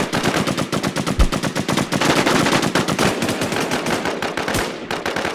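Rapid automatic gunfire in the video game Infestation, loud and close, with dense rhythmic bursts running almost without pause throughout.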